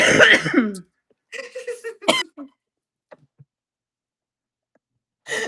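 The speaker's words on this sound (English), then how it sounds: "Coughing." Several harsh coughs up close, a rough burst followed by a few shorter hacking coughs and throat-clearing sounds, with quiet gaps between.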